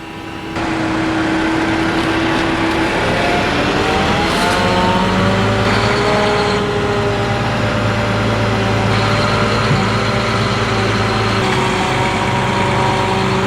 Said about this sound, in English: when you're spinning that much mud up at a time, it doesn't take long to get to the frame